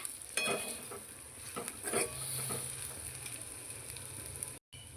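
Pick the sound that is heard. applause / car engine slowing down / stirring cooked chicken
stirring cooked chicken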